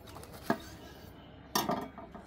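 Knife chopping tomatoes on a cutting board while preparing stuffed tomato pickles, two separate close, sharp cuts about a second apart against a quiet kitchen background.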